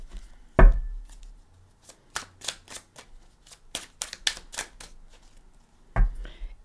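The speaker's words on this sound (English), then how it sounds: "Already pre-shuffled, but we'll give them a shuffle" A deck of Illustrious Tarot cards is shuffled by hand, with a series of crisp, close riffling and slapping bursts and a couple of heavier thumps as the deck is squared, no voices.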